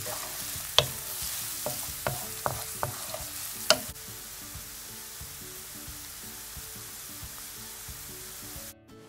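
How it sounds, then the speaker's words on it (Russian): Onions sizzle and fry in a pan of vegetable oil over medium heat, with several sharp scraping stirs early on, then a steady quieter sizzle. "Выкладываем на хорошо разогретую сковородку с растительным маслом и будем обжаривать на среднем огне"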